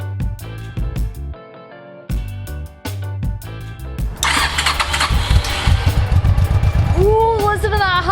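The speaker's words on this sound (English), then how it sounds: "Ooh, listen to that Honda purr!" A Honda motorcycle engine, repaired after a breakdown, cranks in several short bursts before catching and settling into a loud, steady running rumble up close, with talking over it.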